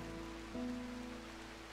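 Steady rain hiss in the colony-building game RimWorld, a soft continuous wash of falling rain with a brief tonal game sound partway through, no talk.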